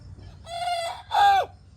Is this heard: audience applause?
no